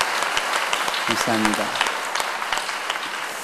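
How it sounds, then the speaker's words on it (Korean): A church congregation applauds to welcome a newly registered member during a Sunday service. Dense, steady clapping fills the whole stretch, with a brief spoken thanks over it. "우리 함께 박수로 한번 환영해 주시기 바랍니다."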